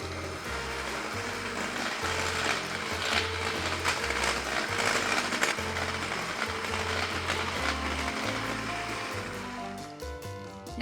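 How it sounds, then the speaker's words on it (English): An electric mixer whisks ingredients into cookie dough for Nutella New York cookies, a steady motor whir with rhythmic grinding pulses against the bowl, close and loud, running for several seconds before cutting off. "Grab your electric mixer again and you're just gonna whisk these in until smooth"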